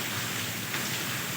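Heavy storm rain pours steadily in a dense, loud hiss at the end of summer, close and continuous with no voices over it.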